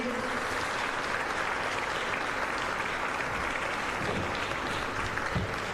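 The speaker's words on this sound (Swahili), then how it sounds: "Tuongeze makofi tena kwa wingi." An audience at the Future Ready Summit 2024 applauds the Prime Minister, a dense and steady roar of many hands clapping that holds without a break throughout.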